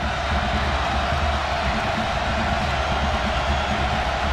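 Football stadium crowd at a Cal versus Colorado college game roars steadily and loudly as the play nears the five-yard line, a dense unbroken wall of noise with no distinct voices.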